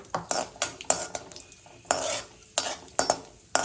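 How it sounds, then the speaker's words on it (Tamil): Cashew nuts fry in ghee in a pan, a soft sizzle broken by sharp, repeated scrapes and clinks of a metal spoon stirring against the pan, close and fairly loud, with no voices. "பொரியிட்டோம் முந்திரி பருப்பு"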